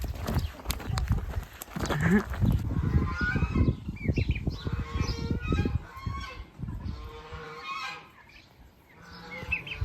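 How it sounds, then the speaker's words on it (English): Geese honk repeatedly in a noisy barnyard, their calls overlapping with footsteps and rustling, and some talk mixed in. "Those geese are so noisy."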